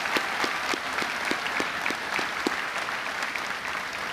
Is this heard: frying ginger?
no